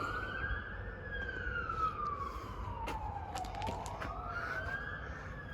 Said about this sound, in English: Got a siren coming.